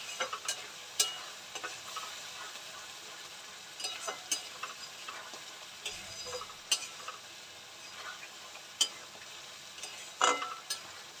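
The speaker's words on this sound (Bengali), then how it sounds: "নারকেল দুধ দিয়ে আমি একটুখানি কষিয়ে নেবো।" Prawn malai curry frying and being stirred in coconut milk in a pan, a soft steady sizzle with faint scraping and clicking strokes of a spoon, quiet and close, without talk.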